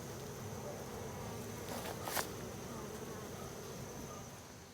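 Honeybees buzz around an urban beehive, a dense steady hum close by, with one brief louder pass near the middle and no talk.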